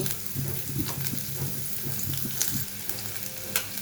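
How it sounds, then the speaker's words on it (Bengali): Chopped onions fry in oil in a kadai (wok), giving a steady crackling sizzle with scattered pops and faint scraping stirs, close and moderately loud, with no talking. "পেঁয়াজটা ভালো করে ভেজে না নিলে ভালো লাগবে না"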